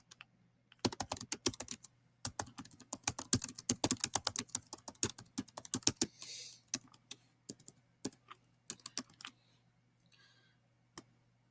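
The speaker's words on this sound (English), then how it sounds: "again, my typing on the Chromebook is not going well." Rapid, uneven clicking of keys on a Chromebook keyboard, in bursts with short pauses, trailing off into a few isolated taps near the end.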